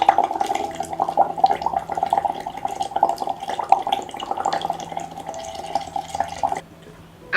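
Air blown through a straw into a cup of water, a rapid, steady bubbling and gurgling close up that continues for several seconds before stopping abruptly.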